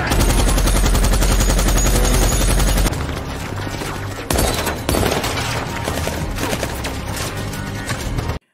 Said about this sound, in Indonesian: pasukan Taliban pun datang dan mulai terjadi baku tembak